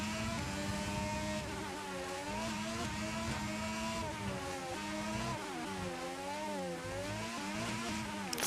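Formula 1 race car from a video game on a lap, its engine screaming close and continuous, pitch climbing through gear changes and dipping as it brakes and downshifts, then winding back up. No talking.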